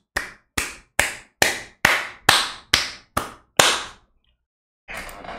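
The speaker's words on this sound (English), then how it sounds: "Everybody, start clapping." Nine sharp, evenly spaced hand claps ring out close and loud, each with a short decay, then a pause before a brief burst of noise; the claps are part of audience clapping for Van Jones.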